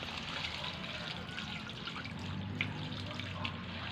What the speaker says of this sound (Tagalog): Mainit din yung tubig na lumalabas sa hose